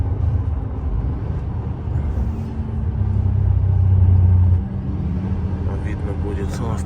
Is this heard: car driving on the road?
yes